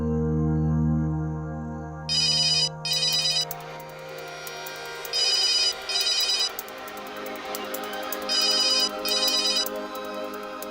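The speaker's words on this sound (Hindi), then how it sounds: "इस वक्त किसका फोन है?" A phone ringtone plays in repeated bursts of bright electronic tones, three short pairs spaced a few seconds apart, over a low sustained musical drone in an indoor home scene.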